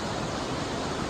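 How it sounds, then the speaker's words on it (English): Soda Creek beside Routt County Road 36, slightly orange water bubbling and flowing in a steady, dense broadband rush, close and continuous with no voices. "This is Soda Creek on Routt County Road 36. It's bubbling like soda."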